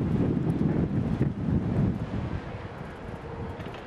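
Strong outdoor wind buffeting a microphone, a loud, continuous low rumble with gusts that swell and ease, no voices.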